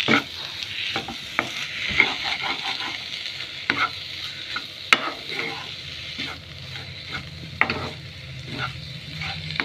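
Potato filling for batata vada being stirred and mixed in a pan, with continuous soft sizzling broken by repeated sharp spatula scrapes and knocks at an uneven rhythm, close and fairly loud.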